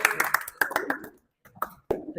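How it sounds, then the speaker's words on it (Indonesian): A group of people in a group counselling session clap their hands in quick bursts, close by, with brief pauses and a final burst of claps. "tepuk tangan untuk kita semua ya"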